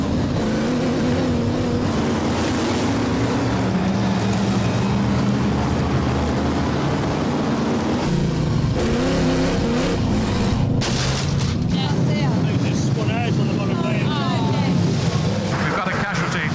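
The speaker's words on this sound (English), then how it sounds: "Lots and lots of grunt, lots and lots of raw power as the Formula One stock cars circulate the Birmingham Oval at a tremendous rate." Formula One stock cars race around the Birmingham Oval, engines roaring and booming in a continuous, fluctuating drone as they pass, with a commentator talking over the noise.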